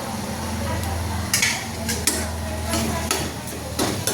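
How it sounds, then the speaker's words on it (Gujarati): Salt and turmeric are stirred into a vaal bean gravy over a low steady sizzle, with a spoon scraping and tapping against the pan in irregular strokes, close and moderately loud. "હવે મિક્સ કરી અને તેલ છૂટું પડે ત્યાં સુધી ચડવા દઈશું આપણે"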